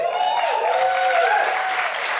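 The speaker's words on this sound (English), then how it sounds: "Applause for running." Audience applause fills the space with a dense, even patter of clapping, moderately loud and steady for a couple of seconds, at a Greens national conference.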